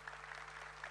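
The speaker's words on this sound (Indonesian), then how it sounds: "Beri tepuk tangan itu buat Tuhan." Church congregation applauding during a sermon, a steady wash of clapping at moderate level with a low hum underneath.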